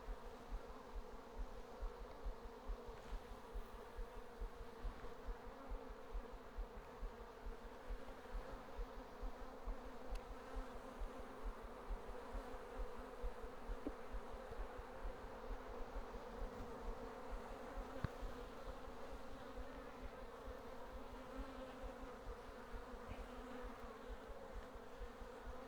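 Honey bees buzz steadily and continuously around an open beehive during a homestead hive inspection, a dense close hum holding at an even level throughout with no talking.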